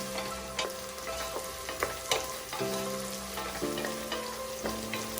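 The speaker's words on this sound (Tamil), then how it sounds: "வெங்காயம் இந்த அளவுக்கு நல்லா சாஃப்ட் ஆகுறது வரைக்கும் வதக்கிக்கிட்டா போதும்" Onions sautéing with a little salt in hot oil for a pressure-cooker mutton gravy, a steady close sizzle broken by repeated scraping and stirring strokes against the pan.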